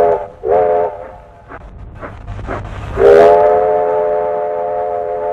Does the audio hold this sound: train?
yes